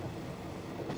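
The Blue Train, a luxury passenger train, rolls along with a steady low rumble and muted rail noise from inside a carriage, continuous and even throughout.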